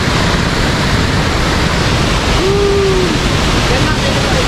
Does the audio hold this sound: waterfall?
yes